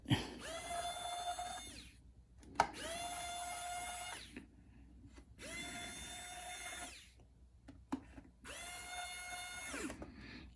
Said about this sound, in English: you have to remove these 4 screws